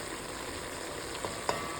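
Carrots frying over high heat in a pot for Uzbek plov, a close, steady dense sizzle with a couple of small stirring clicks toward the end.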